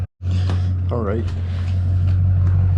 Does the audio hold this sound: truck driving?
yes